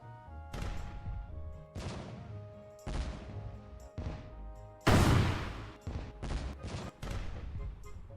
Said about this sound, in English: Get all three of those explosion sounds in.